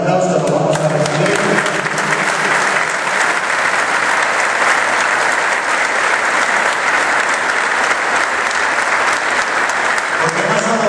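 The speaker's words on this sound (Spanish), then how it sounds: "con un fuerte aplauso lo vamos a recibir" A youth football congress audience gives loud, sustained applause to welcome the former Paraguay national team coach, with dense continuous clapping throughout and a few voices under it.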